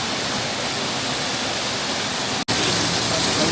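Steady, loud broadband roar of a waterfall heard from inside the cascade in the Geiranger fjord area of Norway, continuous throughout with one brief dropout near the end.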